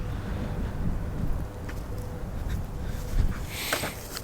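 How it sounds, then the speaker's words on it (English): Wind gusts buffet a microphone outdoors near a 454 Silverado pickup, a low rumbling roar that swells and fades, moderately loud with no talk. "It's pretty windy out here."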